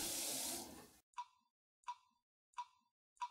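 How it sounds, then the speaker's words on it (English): Water drips from a leaky faucet, four separate clear plops at an even, slow pace, close and isolated in near silence, after a short burst of rushing water at the start. "Can a leaky faucet turn into Niagara Falls?"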